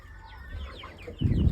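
Chickens clucking nearby in a quick series of calls, growing louder and denser toward the end, with no talk.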